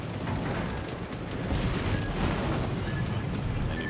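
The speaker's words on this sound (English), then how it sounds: "And you can hear the torpedoes coming in." Incoming torpedoes during a naval battle in World of Warships, with a Jean Bart battleship in play: a steady, loud wash of broadband battle noise and gunfire rumble, with brief thin tonal alert pings in the middle and near the end.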